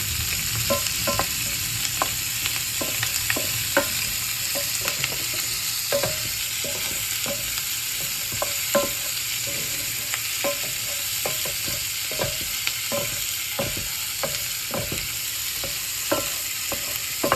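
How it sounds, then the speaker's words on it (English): Onion frying for Hungarian goulash in a pan, a steady sizzle running throughout with regular clicking scrapes of a utensil as it is stirred, no voices. "onion. Stir the onion."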